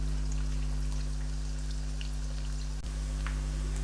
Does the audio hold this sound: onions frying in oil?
yes